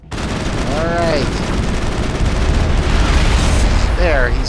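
Gunfire in the Mass Effect video game: loud, dense bursts of rapid weapon fire and blasts rattle on continuously, with a voice briefly audible in the mix.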